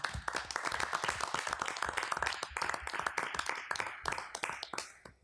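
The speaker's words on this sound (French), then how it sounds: "on pourrait leur adresser une bonne main d'applaudissement" Hearty audience applause at a council meeting, dense overlapping clapping from many hands, close and sustained throughout with no talk.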